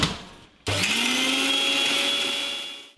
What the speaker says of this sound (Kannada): ಈಗ ಇದನ್ನು ಇನ್ನೊಂದು ಸಲ ರುಬ್ಕೊಂಡ್ಬಿಡೋಣ.